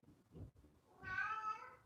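A cat meows twice indoors, a short low mew followed by a longer rising, drawn-out meow, close and fairly quiet with no voices.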